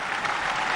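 A brief burst of dense audience clapping at a political gathering welcoming Rajnath Singh, steady and fairly loud throughout the short moment.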